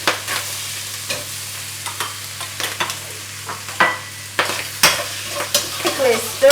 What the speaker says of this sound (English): Quickly stir them, don't let them stick on the bottom of the wok.